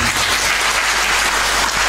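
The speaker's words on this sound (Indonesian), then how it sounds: "Tepuk tangan buat Pak Istom." Dense, loud applause from a crowded audience at an Islamic religious gathering, a continuous wash of many hands clapping close by, with no pauses.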